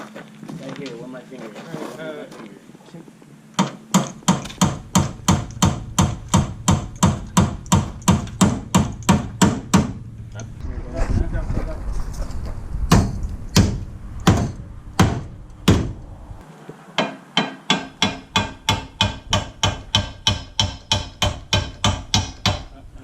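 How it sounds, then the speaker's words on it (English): Hammer striking the smashed front end of a Nissan 240SX S13, a long series of sharp metallic blows in fast regular runs, broken by a short pause and scraping, then another steady run; loud and close. "Hit it right here with the hammer."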